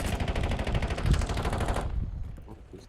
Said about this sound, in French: qui c'est qui se tire dessus là?